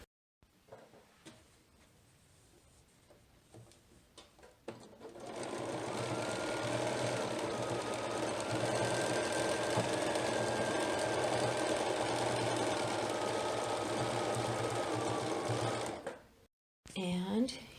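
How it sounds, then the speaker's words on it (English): Sewing machine stitching over puckered fabric while sewing a pair of undies, a steady close mechanical whir running about eleven seconds after some quieter handling noises, then stopping abruptly. "When I'm stitching, I will pull just enough so that those puckers come out and stitch over it."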